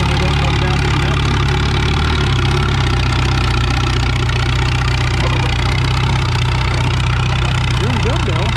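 WD tractor laboring under load on the sled at a spring tractor pull in Lynden, its engine droning loud and steady throughout with a slight shift in pitch partway.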